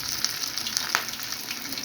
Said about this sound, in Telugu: చూడండి ఫ్రెండ్స్, ఇలా ఉడుకుతున్నాయి.